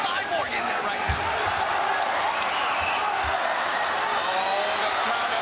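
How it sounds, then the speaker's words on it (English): An arena crowd at a ONE Championship fight roars continuously and loudly, a dense wall of cheering with a few low thuds underneath, and a commentator's voice partly buried in the noise. "Oh, the crowd are going absolutely nuts right now as Nahyan is pushing for that finish"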